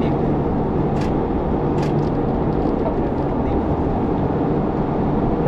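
A car driving on Mittraphap Road near Lam Takhong gives a steady, loud road and engine rumble with tyre noise, unbroken from start to end and heard from inside the vehicle.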